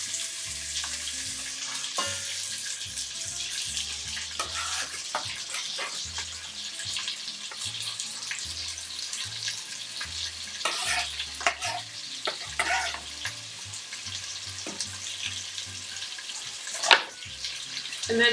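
Vegetables for a homemade ragu sauce sauté in oil in a pan, a soft continuous sizzle broken by scraping stirs and clinks of the utensil, with brief bursts of running tap water and a sharp clank near the end.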